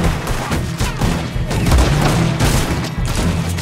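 Heavy volleys of gunfire in a Red Dead Redemption 2 firefight, loud overlapping shots and thuds packed closely together with no letup.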